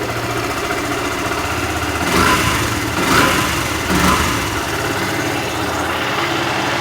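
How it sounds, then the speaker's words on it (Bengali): A Yamaha FZ-S V2 motorcycle engine idles close by in a continuous, even putter, with a few brief swells in loudness partway through before returning to a steady idle. "বাইকটা কিন্তু স্টার্ট করা হয়েছে আর আপনার সাউন্ডটা শুনতে পাচ্ছেন আশা করি"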